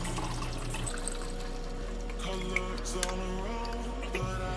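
Water splashes and gurgles as it is poured into a Nespresso Mini coffee machine's water tank, a continuous trickling fill with a few small clinks, fairly quiet.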